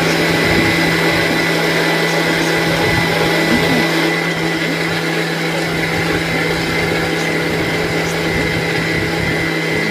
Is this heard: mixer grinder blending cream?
yes